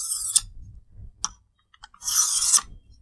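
Quick raspy strokes of a knife blade drawn across a sharpening bench, loud close scrapes with a few short clicks between them and one longer grinding pass near the end.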